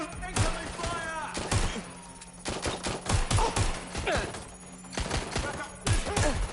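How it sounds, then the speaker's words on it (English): Incoming gunfire crackles in the WDL video game, rapid bursts of loud shots in repeated volleys with short gaps, close and sharp, mixed with shouting game voices. "Incoming fire!"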